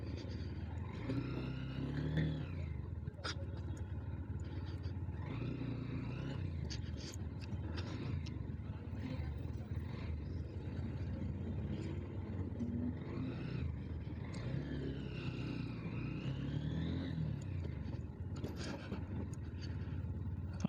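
A Honda motorcycle with ABS ridden in first gear gives a steady, low engine rumble that runs the whole time, with a voice talking over it now and then.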